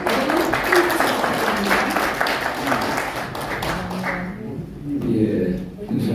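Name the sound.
audience applause in a meeting room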